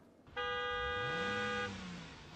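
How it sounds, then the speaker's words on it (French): A car horn honks once at a motor show, a single sustained, fairly loud tone held for over a second against a low murmur of background noise. "Terminons avec justement le coup de klaxon. Vous venez de l'entendre, Thierry, de la rédaction"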